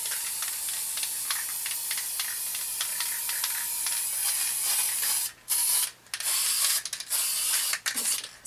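3M spray adhesive hisses steadily from an aerosol can in a long, close spray, then breaks into several short bursts with brief gaps between them, and no one speaks.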